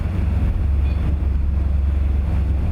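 Strong wind and a big, confused swell slam around a sheer headland on the Norwegian coast, with backwash roaring under a boat at sea and a constant, loud, low rumble of wind buffeting the microphone.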